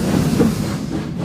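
A boat train bound for Southampton runs on rails, a loud, steady rumble with rhythmic wheel clatter close by and no voices.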